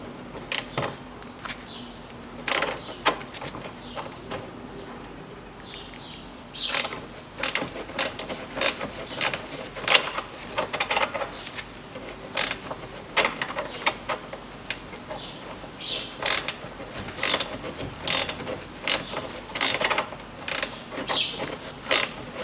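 A hand ratchet clicks in quick bursts while bolts are unscrewed on a Volkswagen Passat B6, with irregular runs of sharp ratcheting and short pauses between them, close and distinct with no talking.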